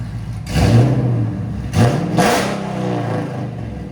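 A supercharged 6.4L HEMI engine in a Jeep Grand Cherokee SRT with a straight pipe revs loudly and throatily in two sharp bursts over a deep rumbling idle, raw and unmuffled.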